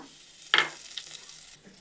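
A sudden crackling hiss as cumin seeds, bay leaves and dried chillies hit hot mustard oil, flaring up loudly then settling into a softer, steady sizzle.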